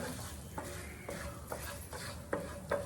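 Food cooks gently in a pan with salt and asafoetida while a spoon stirs it, soft low sizzling with several distinct scraping taps at a steady rhythm, quiet and close.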